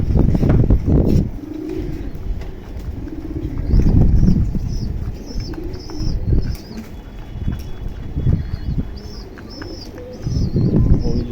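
Pigeons, including jalali pigeons and a black-and-white one, coo repeatedly in a cage, with low rolling coos recurring through the stretch and occasional wing flaps and shuffling close by.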